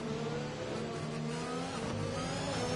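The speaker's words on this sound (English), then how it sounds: "he has that traction control, it sounds like. How the engine is limiting his revs" A race car engine in an Austrian Grand Prix racing video game holds a buzzing, revving drone as traction control caps the revs, heard at moderate level with no talk.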